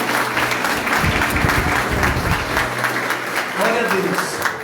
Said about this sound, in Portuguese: Aplauda o nome forte de Jesus de Nazaré.